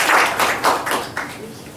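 An audience at a labour politics forum gives a burst of applause, steady rippling claps of moderate loudness that gradually thin toward the end.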